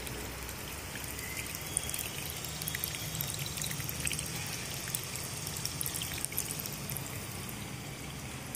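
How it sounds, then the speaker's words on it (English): Drug solution is added drop by drop into a stirred HPMC and ethyl cellulose mixture while preparing microspheres, giving a steady faint liquid trickle and pour sound throughout with no speech. "we are adding drop by drop quantities of drug which is already embedded into the coat by using HPMC and ethyl cellulose"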